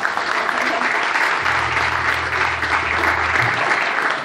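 Steady audience applause at a church gathering, dense continuous clapping from a crowd at close range, with a low hum running beneath for a couple of seconds in the middle.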